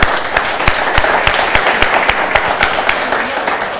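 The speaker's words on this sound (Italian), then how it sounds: "Possiamo farvi un applauso per le belle parole che avete detto?" Studio audience applause on an Italian TV variety special, steady dense clapping with sharp individual claps standing out, continuous and fairly loud throughout.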